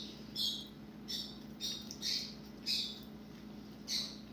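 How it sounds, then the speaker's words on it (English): Pet birds chirp and squawk indoors in a kitchen, about six short bright bursts spaced irregularly over a steady low hum, fairly quiet and close with no talk. "Is the birds chirping bothering you guys?"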